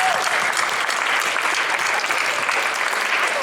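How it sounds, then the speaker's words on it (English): Audience at a horror convention Q&A panel gives sustained, dense applause for the show's sponsors, steady and loud throughout with no talk over it. "Let's do a hand for our sponsors and the people that put this wonderful show together."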